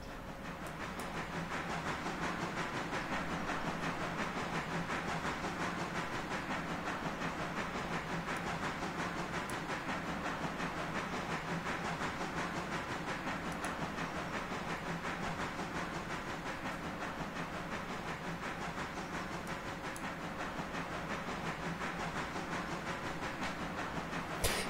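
A steam locomotive runs in the train game Railroader, giving a steady, even rumble with a constant hiss and faint rhythmic rail clicks, moderately loud and continuous with no talk.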